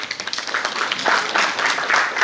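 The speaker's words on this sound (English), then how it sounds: "We should have a clap for this scheme." Audience at a business event clapping, a brief burst of scattered applause that builds slightly and stays fairly close, with no talk over it.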